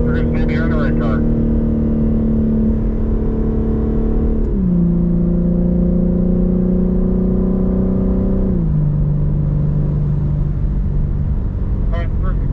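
A BMW M car under full throttle on a race track, engine droning loudly and steadily with two clear upshifts as pitch drops and climbs again, while an instructor's voice talks over it.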